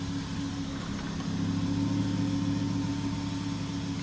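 A car bought with a bad transmission idles with a noisy pulley, a steady close engine hum with a faint whirring whine running through it, no voices.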